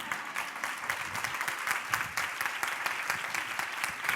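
An audience at a motivational talk on emotions claps steadily throughout, a dense sustained patter of many hands at moderate distance with no voices.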